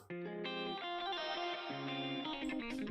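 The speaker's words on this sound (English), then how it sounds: "Space is just a cool reverb." A sustained electronic chord tone with a spacious, washed-out reverb tail that shifts pitch partway through, loud and steady with no talking.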